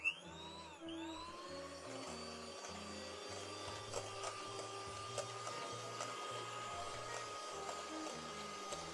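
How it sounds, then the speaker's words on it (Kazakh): An electric mixer blends soaked banana into cream, giving a steady whirring motor drone that starts with a brief surge and runs on evenly at close range, with no talking. "Оны әрі қарай миксермен шайқап аламыз."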